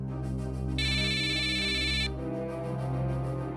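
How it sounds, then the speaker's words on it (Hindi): A phone ringtone trills loudly for over a second, its electronic tone cutting through a steady low hum, then stops. "सुन ना, कहीं फोन बज रहा है क्या?"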